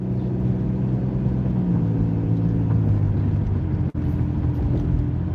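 Car pulling away from a white stop line during a driving lesson, its engine rumble droning steadily and close, pitch shifting as it accelerates, with a brief dip near the end.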